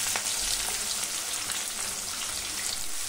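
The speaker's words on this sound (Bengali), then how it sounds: "পেঁয়াজগুলো নাড়াচাড়া করে একটু লাল লাল করে ভেজে নিতে হবে।" Thinly sliced onions, three of them, frying in hot oil as they are stirred: a dense, steady sizzle with faint spatters and scrapes, loud and close, no voices.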